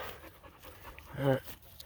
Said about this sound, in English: There's a big dog whipping on a puppy down there. I can hear him.